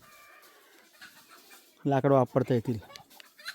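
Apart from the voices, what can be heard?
hens clucking while roaming in a village yard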